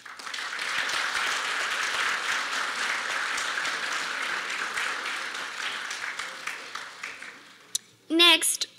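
An audience at an international student graduation celebration claps steadily for several seconds, the applause fading out before a brief voice speaks at the end.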